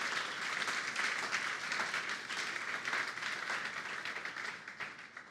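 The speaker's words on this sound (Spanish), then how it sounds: "Dame un aplauso entonces al Señor" A church congregation at a Sunday service claps together in steady, sustained applause, a dense wash of hand claps filling the room with no speech on top.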